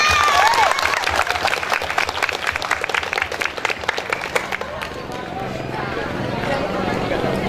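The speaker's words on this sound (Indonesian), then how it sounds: "Beri aplaus dong." An audience at a school theatre play for Heroes' Day breaks into loud applause, dense clapping that gradually thins out and fades into a softer background murmur.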